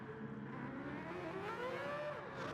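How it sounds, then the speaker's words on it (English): A lone Mazda race car engine hums at moderate distance during a race, with a steady drone whose pitch sweeps gently up and down over a couple of seconds. "It sounds like a Mazda."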